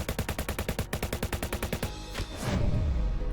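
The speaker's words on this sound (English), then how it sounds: "here's that new alt fire that the Tommy gun has" Tommy gun alternate fire in the game Automatic Messiah: a fast, evenly spaced stream of punchy automatic shots, then a deeper whooshing blast that swells and rumbles as it fades.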